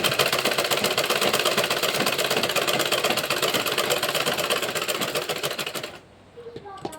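A sewing machine stitches cloth in a fast, steady mechanical rattle for about six seconds, close and loud, then stops abruptly, leaving faint handling sounds.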